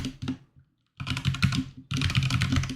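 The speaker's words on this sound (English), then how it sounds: "So let me do a little typing exercise here." Fingers tap quickly on a computer keyboard in two dense bursts of clicks with a brief pause between, close and clear with no talk.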